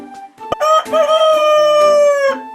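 A rooster crows loudly and close by, one long drawn-out cock-a-doodle-doo after a brief lead-in note.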